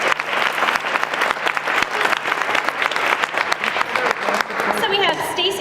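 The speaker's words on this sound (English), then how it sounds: "So let's give them a round of applause" Audience at a gathering of National Board Certified Teachers breaking into loud, sustained applause, dense clapping with crowd voices and cheers mixed in, thinning near the end.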